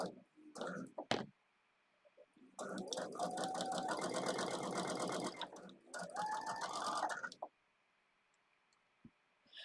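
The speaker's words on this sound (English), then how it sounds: "just sewing a 1/4 inch seam" A sewing machine runs a 1/4 inch seam in two close bursts of rapid, even stitching, each a few seconds long, with a pause between and a few clicks and brief speech before them.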